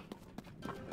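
Horse hooves clip-clop in the video game Tears of the Kingdom, four soft, evenly spaced thuds in a quick trotting rhythm, fairly quiet.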